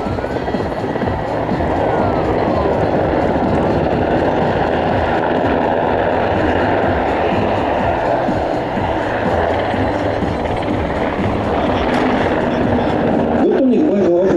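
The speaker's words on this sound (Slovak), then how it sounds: "Vrtuľník Black Hawk vám predstavuje displej" A UH-60M Black Hawk of the Slovak Air Force flies a dynamic display at NATO Days in Ostrava, its rotor and turbine making a loud, steady chopping drone that fills the whole stretch, with an announcer's voice faintly underneath.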